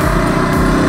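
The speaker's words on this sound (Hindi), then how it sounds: "आ चुके हैं हाईवे पे अपनी KTM RC 200 के साथ" A KTM RC 200 motorcycle engine drones loudly and steadily while riding on a highway, a continuous buzzing tone with no speech.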